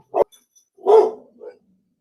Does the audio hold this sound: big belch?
no